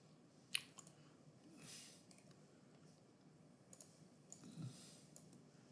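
A single crisp computer mouse click up close, with a few fainter clicks later in a quiet room and no talking.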